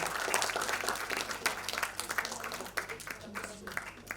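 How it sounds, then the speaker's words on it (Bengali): An audience claps loudly and continuously at a club felicitation ceremony for a Navi Mumbai Bengali association, a dense wash of applause with faint voices beneath it. "জোরে হাততালি।"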